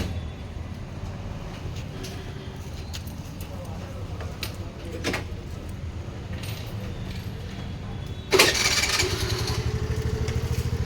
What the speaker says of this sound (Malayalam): ഇവിടെ കേട്ടോ കുറേ ബൈക്ക് കിട്ടുന്നു.